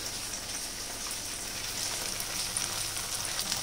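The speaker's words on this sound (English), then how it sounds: "So now let us fry it. Slowly put the tikki. The oil has become nice hot." Sabudana vada tikkis, sago patties, fry in hot oil over a reduced flame, giving a steady, close crackling sizzle that holds evenly throughout with no voices.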